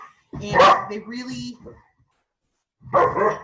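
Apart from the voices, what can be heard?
dog barking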